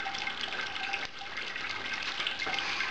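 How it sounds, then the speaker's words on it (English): Sparge water runs steadily through the grain bed of a hazy pale ale mash in home brewing, a continuous close trickling gush with no speech over it. "The end of the sparge water,"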